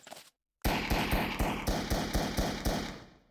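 M9 pistol gunshots in a video game: nine sharp shots fired at a steady, even rhythm after a brief silence, each loud and close with a short decaying tail.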